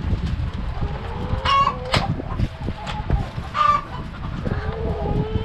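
Chickens cluck repeatedly in a rural yard, with a few sharper calls standing out over a steady outdoor background.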